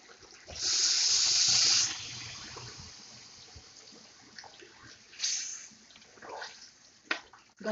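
Water is poured into a cooking pot of beef haleem with bay leaves: a loud, steady gush for about a second, followed by fainter splashes and light clinks nearby.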